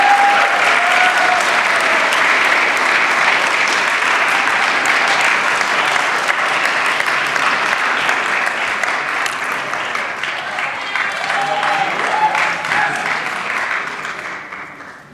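Sustained audience applause at an awards night for scholarship recipients, a dense steady clatter of many hands that holds for most of the stretch, then thins and fades near the end.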